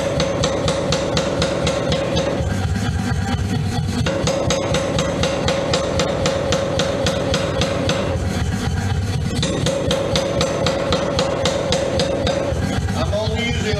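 Power hammer drawing out a steel bar between hammer and anvil at low power, a steady rapid hammering that pounds continuously and loudly throughout, with brief shifts in tone as the stock is repositioned.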